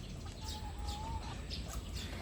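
Hen and young chicks of an LDT cross give soft clucks and high peeping chirps close by over a low, steady background hum.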